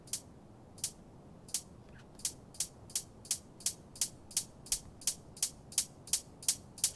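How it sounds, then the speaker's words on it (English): Hi-hats in a drum and bass build-up start as sparse, spaced ticks and grow steadily denser and a little louder, ending in a fast even stream of crisp, bright hits over a faint low bed. "if you want to listen to the hats on this build-up"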